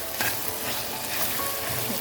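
Steady, dense sizzling of potatoes and onions frying in a pan, a continuous crackle with faint stirring, no voices.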